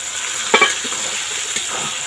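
Vegetables coated in turmeric fry in a pan for village-style mixed fried rice, giving a constant hiss of oil, with a couple of brief stirring scrapes near the start and no speech.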